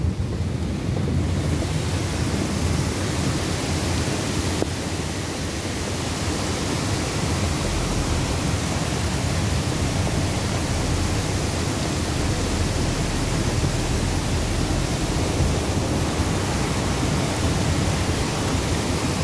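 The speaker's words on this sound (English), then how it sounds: "Oh, check out the waterfall." Steady, broadband rushing roar of a waterfall at Wheeney Creek, NSW, loud and continuous throughout with some wind buffeting on the microphone.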